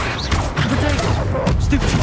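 Incendio fire spell cast during combat in Hogwarts Legacy, heard as a dense burst of crackling blasts and booms over busy battle noise, with a voice speaking in the background.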